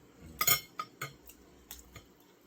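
A metal fork clinks against a plate of pork steak and fried rice in a few sharp, bright taps, close and fairly quiet, with short pauses between strikes.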